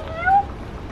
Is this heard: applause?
no